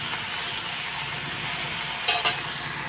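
Chopped onions fry in a pan with a steady sizzle while being stirred, a couple of brief scraping clinks near the end, no talking.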